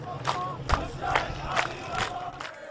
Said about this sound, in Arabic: يردد مشيعوه هتافات أبلغ من شعارات النظام الممجوجة